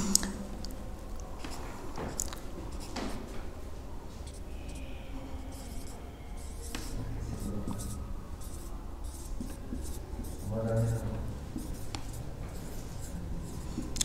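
Chalk or marker scratching steadily across a board as proverbs are written during an English lesson, a soft continuous rubbing with brief pauses and faint room noise, no speech over it.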